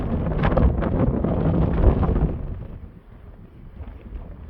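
Blizzard wind driving blowing, drifting snow on a cold day along a closed highway, a loud, steady roar buffeting the microphone for the first two seconds, then easing to a lower, rougher rush.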